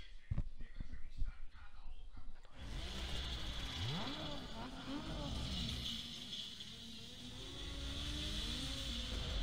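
Street-race car engines in Need for Speed Underground 2 rev and whine, rising and falling in pitch over a steady roar after a brief, choppy opening.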